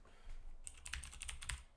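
Soft rapid clicking of keys typed on a modular mechanical keyboard with LED switches, quiet and close, in a short run of irregular strokes.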